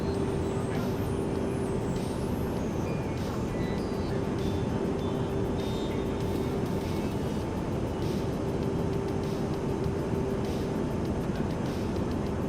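Steady cabin drone of a Boeing 737 twin-jet airliner in X-Plane 12, a constant engine roar with a faint tonal whine, unbroken and even throughout, with some faint chimes and beeps on top.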